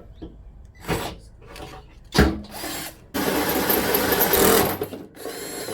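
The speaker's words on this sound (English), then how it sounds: "I'm going to drill a hole here, here first, and then we're going to drill that hole." Bursts of a power drill whirring close by as it drills holes in a Toyota Tacoma for a snorkel, short pulses at first, then a longer sustained grinding run before stopping.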